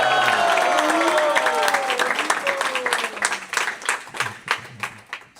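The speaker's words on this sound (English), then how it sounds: "Let's just give another big round of applause." An audience at an ISKCON Brooklyn Bhakti School program claps and cheers, starting as dense applause mixed with crowd voices and thinning into scattered individual claps.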